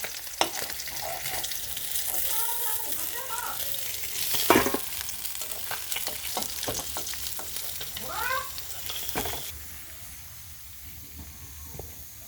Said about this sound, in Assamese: আৰু মোৰ মাছখিনি ভাজা হৈ গৈছে, মই এতিয়া নমাই ল'ম।